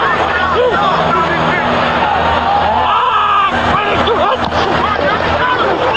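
A football stadium crowd roars to rattle the New York Giants offense at the Tennessee Titans in 2000, a loud sustained wash of shouting and whooping with a broadcast voice talking over it.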